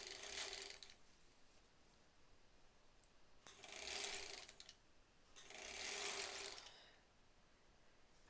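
A sewing machine top stitches along the edge of a fabric face mask in three separate runs of steady mechanical whirring, each a second or two long, with quiet pauses between them.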